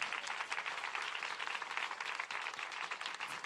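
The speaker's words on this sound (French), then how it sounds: "On t'a applaudi bon Dieu plus fort que ça," A church congregation applauds with steady, crowded clapping that carries on without a pause, fairly faint and heard from a distance, with no speech over it.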